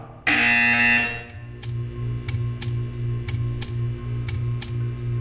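A loud, harsh electronic buzzer in the video game Portal 2 blares for about a second, then a steady hum continues with regular ticking beats.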